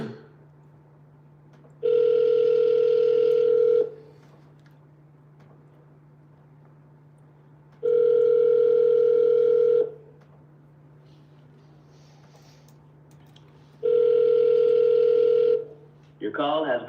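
A phone call rings out over the line: three evenly spaced two-second ringback tones separated by longer pauses, heard over a constant low hum, with a brief noise at the very end.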